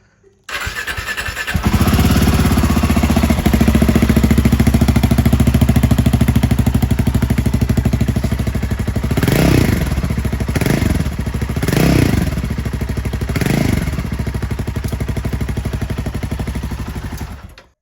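Royal Enfield Himalayan 450 motorcycle with its catalytic converter removed, engine starting and idling loudly close by, with several short throttle blips rising and falling in a steady rhythm, no talking.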